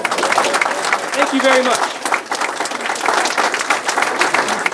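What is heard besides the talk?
round of applause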